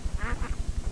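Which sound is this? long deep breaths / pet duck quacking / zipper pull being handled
pet duck quacking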